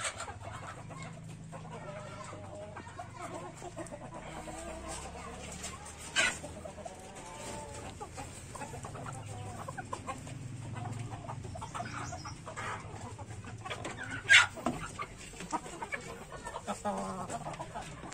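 Free-range village chickens cluck steadily in a farmyard, with scattered sharper squawks and soft background noise throughout.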